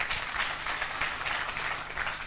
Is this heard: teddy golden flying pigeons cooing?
no